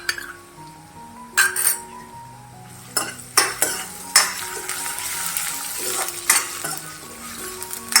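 Grated ginger frying in hot oil for restaurant-style cabbage Manchurian, with a steady sizzle broken by repeated stirring scrapes and clinks of a spoon against the pan, close and moderately loud.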